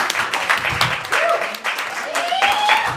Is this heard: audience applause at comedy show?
yes